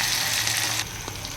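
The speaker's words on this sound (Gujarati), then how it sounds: "હવે તેને આપણે સારી રીતે મિક્સ કરી દઈશું તેલ સાથે, અને આપણે 2 થી 3 મિનિટ સુધી એને તેલમાં જ આવી રીતે સાંતળવા દઈશું" Small potato pieces sauté in hot oil for a Gujarati pea and potato curry, giving a steady, loud, close sizzle that eases slightly partway through.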